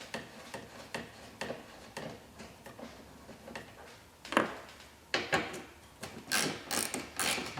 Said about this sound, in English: 10 millimeter socket takes these off